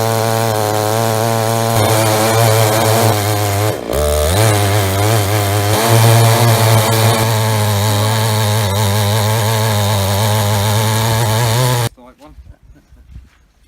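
A Panther PM-42 42-inch chainsaw mill cuts hard sycamore in the rain, a loud close engine whine with a brief dip and rev, then cutting out abruptly near the end to quiet ambience.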